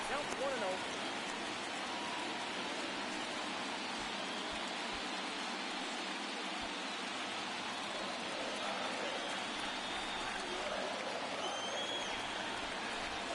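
Baseball stadium crowd noise from the video game MLB The Show 22, during an NLCS Game 2 between the Philadelphia Phillies and San Diego Padres: a steady, dense roar of a large crowd, broad and continuous without pause.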